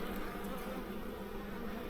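Honey bees buzzing around an opened hive's bottom box where guard bees gather, a dense steady drone close by that stays even and continuous, with no talking.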